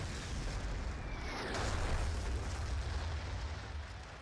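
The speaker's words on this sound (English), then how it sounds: "Liliac gonna drop an artillery just north of the park" Artillery shell exploding in a Battlefield 2 conquest match, a deep, rumbling blast heard at a distance, rising and then slowly fading under a steady low roar.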